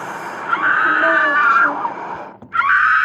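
A person screams loudly and steadily for about two seconds, breaks off briefly, then starts screaming again, up close and alone.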